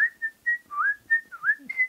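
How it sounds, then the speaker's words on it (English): A person whistles an ordinary, fairly quiet lip whistle close by, a run of about eight short tonal notes with small pitch slides and brief gaps between them. "That's a rubbish whistle."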